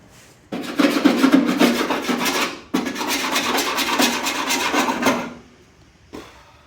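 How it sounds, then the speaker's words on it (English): Old, 60-year-old undercoating being scraped off 1954 Studebaker parts, two long bursts of harsh, rasping scraping, close and loud, separated by a short pause and followed by one brief final scrape. "Scraping 60-year-old undercoating sucks"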